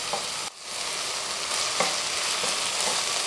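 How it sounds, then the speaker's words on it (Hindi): Spinach, cooked for palak gosht with mutton, frying in a pot with a loud continuous sizzle, stirred with a few scraping strokes, close and without talk. "इसे चला के हम भूनेंगे।"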